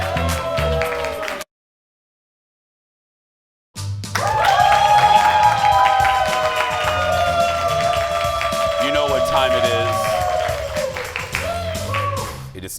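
Studio audience breaking into loud applause and cheering for a guest named Jared on a talk show, sustained clapping and whoops with music playing under it after a brief cut to silence.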